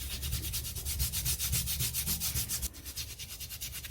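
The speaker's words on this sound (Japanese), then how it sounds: "濡らしながら、まずは切り目に沿ってたわしで磨いていってみます。" A wet natural whetstone being scrubbed along its cut grooves with a tawashi scrub brush, giving steady rhythmic rasping strokes, about four per second, close and loud with no talking.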